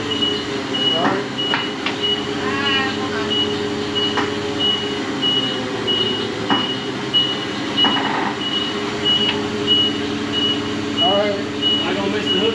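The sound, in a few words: truck reversing beeps while backing up to cotton picker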